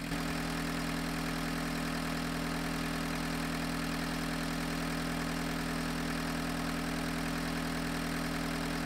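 A 1985 Volkswagen 1.6L diesel engine runs continuously with a steady, slightly knocking idle drone, sped up as a time lapse, with no voices.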